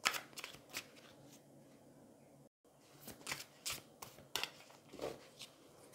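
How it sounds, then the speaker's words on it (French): Tarot cards shuffled and drawn by hand, close and quiet, with a run of crisp flicks and riffles, a brief total dropout midway, then several sharper snaps as cards are laid out, no voice. "Donc on va prendre 3 cartes"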